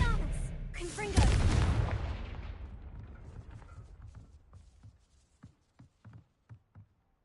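A Confringo spell explosion near a gatehouse in the Hogwarts Legacy video game: one loud blast with a long fading rumble, then scattered small debris patters and clicks trailing off into near quiet.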